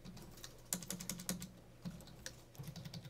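Code comments typed on a computer keyboard: irregular runs of crisp, close keystrokes with uneven gaps, a few louder key hits, and no voice.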